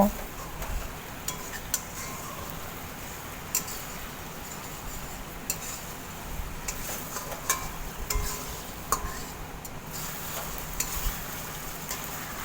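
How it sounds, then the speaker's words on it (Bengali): Spices with turmeric, salt and a little sugar are sautéed and stirred in a pan for a chhana kofta curry, giving a soft continuous sizzle broken by frequent light ticks and scrapes of the spoon against the pan. "এবার মশলাটাকে ভালো করে কষিয়ে নেব"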